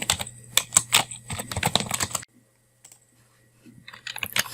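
Brisk close-up typing of a shell command on a computer keyboard, a dense run of clacking keys for about two seconds, then near silence before a few more taps.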